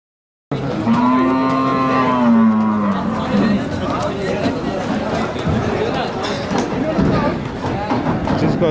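Cattle at the Erragadda buffalo market let out a long, loud moo up close, followed by the busy murmur of traders and crowd chatter filling the rest.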